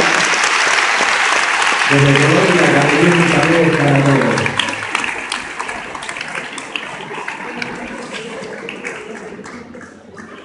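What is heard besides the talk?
applause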